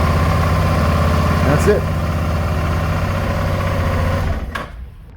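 A motorcycle engine runs at a steady idle close by, with a brief spoken remark partway through, before it cuts off and fades to near silence at the end.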